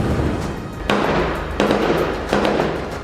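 Gunfire from fighters in a combat clip, with three sharp, loud cracks at roughly even intervals over a steady background hiss, each shot followed by a short fading tail.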